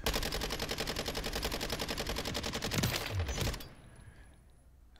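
A Minibak submachine gun in Call of Duty fires in a rapid, sustained automatic burst on a shooting range, the fast regular shots loud and close for over three seconds before stopping abruptly and leaving faint room tone.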